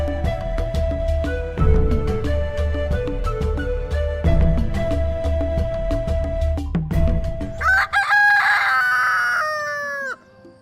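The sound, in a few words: rooster crowing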